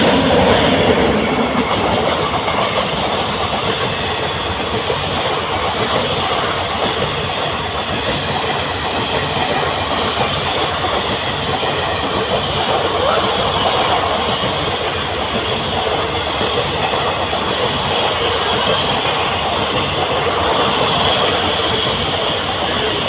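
At Karukutty railway station in the evening, a train rolls past with a continuous loud rumble and rhythmic wheel clatter on the rails, steady throughout with faint squeals, and no voices.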